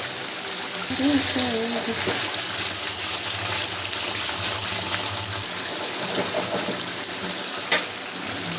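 Water poured into a pan of fish curry with tomato, gushing and bubbling over an ongoing sizzle, with a brief voice early on and a clink near the end.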